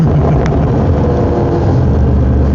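Motorcycle engine revving hard during a warm-up wheelie, a loud, steady, continuous drone that holds at high pitch without dropping, with a brief higher whine partway through.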